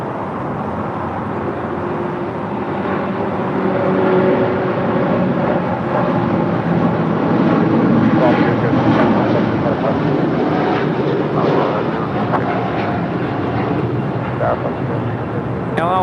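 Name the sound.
Condor Airbus A330-200 arriving from Frankfurt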